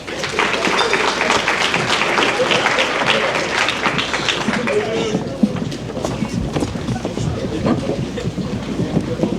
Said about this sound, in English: Let's give these athletes one more round of applause.